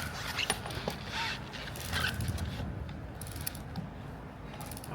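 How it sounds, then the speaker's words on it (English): Torque wrench ratcheting as it tightens a draw bolt to 120 foot-pounds while mounting dual wheels on a Ventrac, giving a run of close, fairly quiet mechanical clicks over steady low background noise. "we're going to tighten down our draw bolt right here to 120 foot-pounds"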